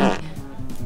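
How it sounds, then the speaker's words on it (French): A short, low, buzzy fart sound, close and fairly quiet, lasting under a second. "Si jamais tu as pété"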